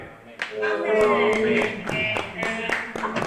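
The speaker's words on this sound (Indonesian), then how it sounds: "Beri tepuk tangan yang baik bagi dia" Applause from a church Christmas congregation, with sharp, distinct claps in a roughly regular rhythm over a sustained musical tone, fairly close and moderately loud.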